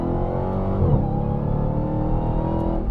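Supercharged Dodge Challenger Hellcat Redeye V8 under way, its supercharger giving off a loud, steady high whine with a siren-like quality over the constant engine drone, with no voices.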